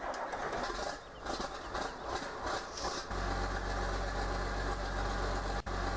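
Tractor engine idling in Farming Simulator 17 at a show, a steady low rumble with a slight misfire, loud and continuous, with mixed background noise over the first half before the engine settles in alone.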